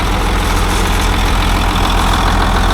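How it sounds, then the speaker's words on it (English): A large, powerful tractor engine runs steadily up close, a loud continuous low rumble and drone with no pauses. "Boy, that tractor's a monster."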